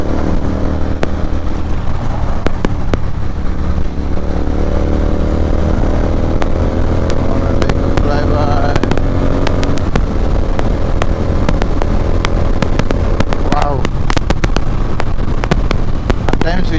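Royal Enfield 650 twin motorcycles rumble loudly along a highway with wind roar, engine tones rising and falling as bikes pass close, and a voice speaks at times.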